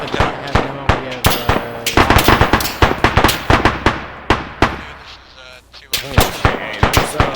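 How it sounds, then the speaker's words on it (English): Close, loud gunfire in rapid irregular bursts of sharp shots during a military platoon training exercise, aimed at a building, with a brief lull before the shooting picks up again. "Hey, there's somebody shooting at us there. Somebody from our side shooting at that building."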